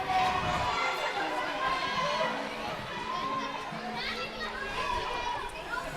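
Spectators at a regional girls' school cross-country race at a Verdun college, a busy crowd of overlapping chatter, children's voices and cheering, moderately distant and continuous.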